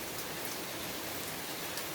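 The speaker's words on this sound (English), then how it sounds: "Wow, she's really raining hard." Heavy rain pouring down outdoors, a dense, even hiss of countless drops striking surfaces, steady and unbroken with no voices.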